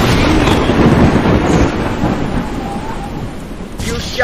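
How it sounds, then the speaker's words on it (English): Thunderstorm in the video game Tornado Alley Ultimate, a loud close rumble of thunder over steady rain and wind, easing then swelling again near the end. "I will not walk into that storm."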